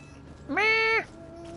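A cat gives one clear, close meow lasting about half a second, standing alone against quiet room tone.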